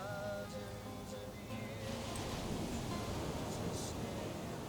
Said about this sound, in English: Listen to the sound of the waves as you walk to the edge